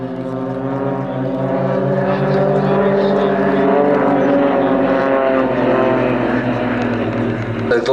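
Steady, loud drone of a 300-horsepower propeller aerobatic display aircraft at an airshow, with a sustained harmonic engine hum that holds throughout as it flies past; a commentator talks over the engine noise.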